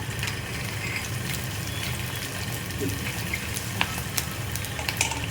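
Curry leaves and slit green chillies sizzling in hot oil for masala dosa filling, a steady close frying hiss with scattered sharp crackles and pops throughout.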